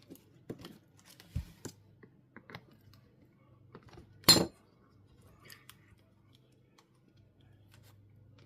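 Someone wrestles with the lid of a glue bottle: small scattered plastic clicks and scrapes, one sharp louder snap midway, all faint and close against a quiet background.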